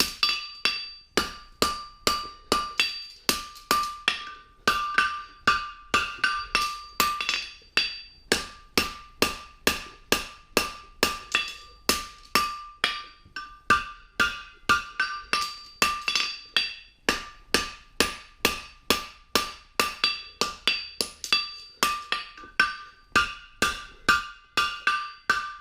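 Steady rhythmic hammer blows on a steel anvil while forging a straight bar horseshoe, dozens of sharp ringing strikes in quick regular bursts with brief pauses, close and loud, no talking.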